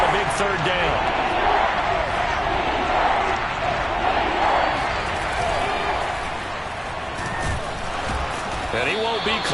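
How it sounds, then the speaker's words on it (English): Football stadium crowd cheering and roaring ahead of a big third down, a steady dense wall of crowd noise with a commentator talking over it throughout. "The crowd getting into it as we come up on a big 3rd down"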